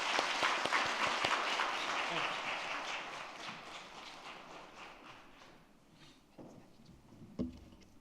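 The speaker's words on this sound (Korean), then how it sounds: "인사드릴 때 박수로 응해 주시기 바랍니다." Church congregation applauding at a Sunday afternoon graduation service, a quiet round of clapping that starts fairly full and gradually thins and fades, with a few scattered claps and a thump near the end.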